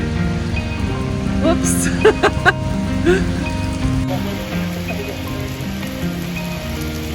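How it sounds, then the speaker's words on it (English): Steady rain patters on surfaces outdoors during a wet weekend in New York, a dense continuous hiss with a few louder splashes, while a voice briefly speaks partway through. "now we have to walk back over to our cars, but it's kind of rainy"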